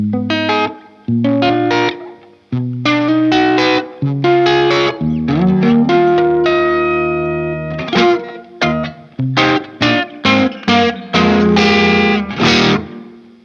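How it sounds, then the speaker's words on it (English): Electric guitar on a clean tone with its volume knob rolled back, strummed chords and picked notes in bursts with pauses, some sustained ringing, loud and close with no talking. "This is my clean tone. I'm just rolled back on the guitar's volume control."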